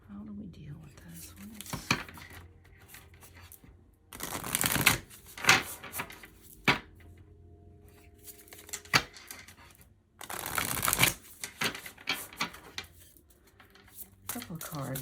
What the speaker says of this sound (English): Shuffling again, even though it's already been shuffled.